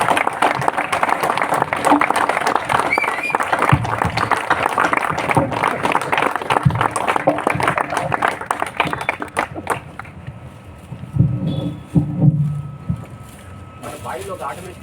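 A crowd at a book launch claps in a dense, sustained burst of applause for about ten seconds, then it breaks off and a few voices and quieter sounds follow.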